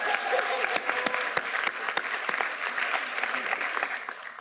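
An audience at a university spirit fest claps continuously, a dense patter of many hands heard from the crowd, steady and moderately loud throughout with scattered sharper claps standing out.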